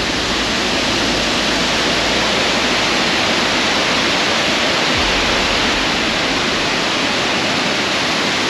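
Great Falls waterfall roaring, a loud, constant broadband rush of falling water heard close and unbroken, with no voices over it.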